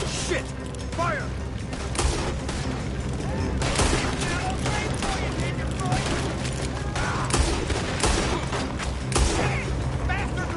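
Rapid gunfire crackles through a Red Dead Redemption 2 shootout, with dense repeated shots and booms under excited shouting voices across the whole stretch.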